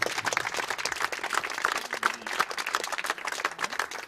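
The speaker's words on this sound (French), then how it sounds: "Moi, je demande que déjà on applaudisse ce choix-là" A crowd at a French political meeting applauds, with sharp, irregular hand claps piling into a lively, uneven stream that carries on steadily throughout.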